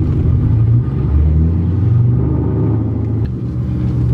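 A lowered manual-transmission car climbs a steep slope, its engine rumbling steadily and loudly close by with slight changes in pitch as it pulls uphill, and no talking.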